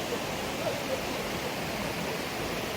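Water rushes under the bridge at Dawki as a steady, broadband roar of flowing river, close and unbroken for the whole stretch, with no voices.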